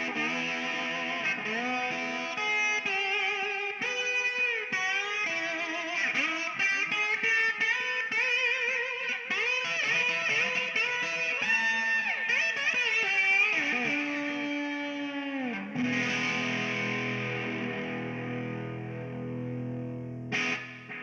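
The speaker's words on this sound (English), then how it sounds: "It delivers impressive slapback echo effects and fat mellow" Electric guitar played through a Sonicake digital delay pedal set for slapback echo, a continuous loud run of chords and notes with short doubled repeats, then a sustained low tone ringing out near the end.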